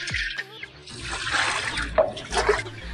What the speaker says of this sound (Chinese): 把排骨清洗干净。